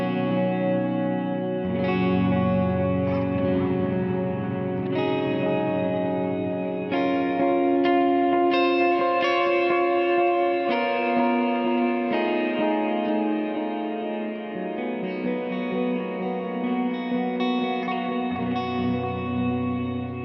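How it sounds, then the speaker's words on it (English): Electric guitar chords ring out through a Horizon Devices Flux Echo pedal's reverb, each note washing into long, shimmering tails that slowly fade between strums. "Kind of hear that decay working there."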